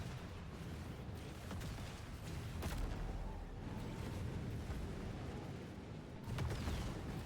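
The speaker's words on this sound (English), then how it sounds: "explosions happening everywhere" Repeated muffled booms and sharp bursts of explosions in a racing video game, over a constant rumbling background, with several louder thuds spread across the clip.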